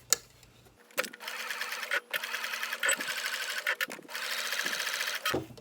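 Sewing machine stitching swim fabric scraps in several close bursts of steady rapid whirring, separated by short pauses, with no talk.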